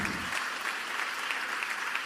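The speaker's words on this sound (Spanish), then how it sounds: "¿Cuántos dan un fuerte aplauso?" A congregation at a church service applauds loudly together, a dense steady clatter of many hands that stays even for a couple of seconds, close and full with no voices standing out.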